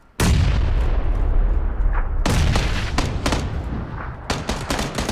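Loud, close bursts of video game gunfire, with heavy booming grenade blasts mixed in: a dense opening volley, then several distinct sharp shots and impacts.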